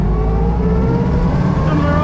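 Engine of a vintage Austin 7 car pulling away, a loud, close, steady low drone with a rising whine as it accelerates, briefly, with no talk over it.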